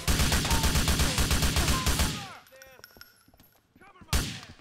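Gunfire in a police shootout inside a house in GTA IV, loud rapid shots firing in quick bursts for about two seconds, then quieter scattered reports with ringing tones before one more sharp blast.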